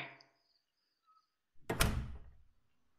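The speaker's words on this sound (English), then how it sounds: "I should go inside quickly before he closes the door." A door swings and thumps shut in a quiet indoor room, one firm close after a faint click, with a brief rattling decay and no voices.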